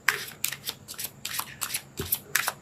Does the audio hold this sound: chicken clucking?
no